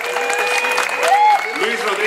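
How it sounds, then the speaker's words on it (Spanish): An audience at a Zumba event for women applauds steadily, with dense clapping over the whole stretch. A voice speaks over the clapping. "¡Fuerte el aplauso, por favor!"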